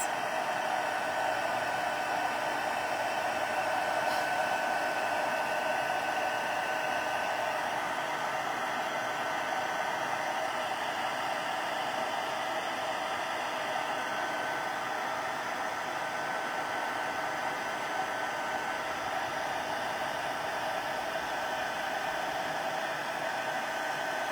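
An embossing heat tool blows steadily on a stamped card image for Christmas cardmaking, a constant whooshing fan-and-heater roar held at even loudness throughout, with no talking.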